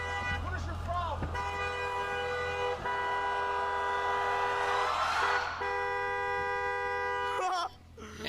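A Corvette Z06 horn honks in a long, steady blast lasting most of several seconds, loud and close, broken by short gaps, with a car engine droning beneath and voices briefly around it.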